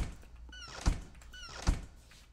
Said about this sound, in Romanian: Uite, am închis ușile.